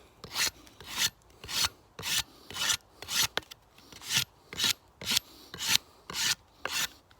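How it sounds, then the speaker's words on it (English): An Origin Akkad knife strips wood, knots included, in a steady rhythm of about a dozen close, raspy scraping strokes, each a short rough burst with brief pauses between. "Stripping it down in seconds. Even through the knots."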